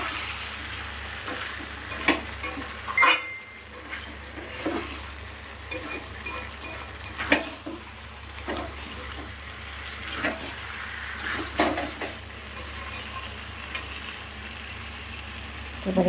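Chicken masala cooks in oil in a pan as the spices release their oil, giving a faint, steady low sizzle with scattered soft stirring scrapes and clinks throughout.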